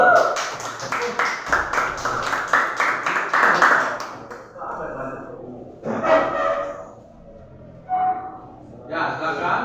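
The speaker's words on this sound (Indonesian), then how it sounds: "tepuk tangan untuk kelompok satu" Classroom students clap for a presenting group, a brisk rhythmic burst of hand claps for about four seconds, followed by quieter speech from the room.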